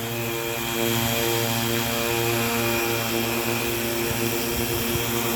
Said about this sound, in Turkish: Çok güzel bir drone oldu.